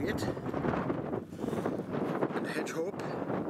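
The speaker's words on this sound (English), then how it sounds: "oh, it's windy. Come on, it's windy." Strong wind buffets a hilltop in the Cheviot Hills near Ros Castle, a rough, gusty roar battering the microphone throughout, with people talking faintly underneath.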